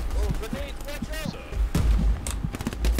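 A grenade blast in the World War II shooter Hell Let Loose goes off close by, a sharp boom amid scattered gunfire, with someone talking excitedly over the battle noise.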